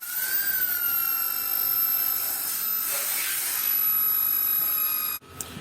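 A line bore bar with a drill bit cuts an RB26 cam journal, giving a steady, high whine with sharp tonal ringing that holds for about five seconds and then stops abruptly.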